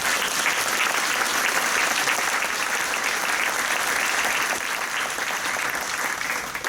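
Sustained applause from a sizable audience at a French municipal council meeting, dense and even, tapering slightly at the end.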